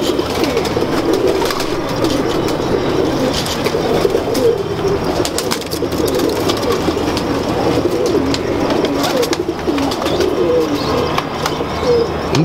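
Golden pigeons cooing steadily and close, overlapping soft calls with a few chirps and wing flutters mixed in, continuous and loud with no talk.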